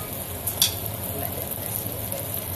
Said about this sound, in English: All right, so that's frying up.